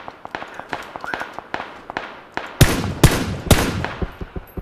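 M4 rifle gunfire from the battle royale game PUBG rings out as rapid, sharp cracks of varied loudness, some faint and some close and heavy, with three especially loud shots near the middle.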